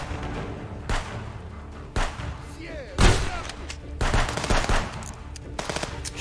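Bursts of automatic gunfire and single shots in the video game Contraband Police, coming in loud separate volleys about a second apart, with speech heard between and over them.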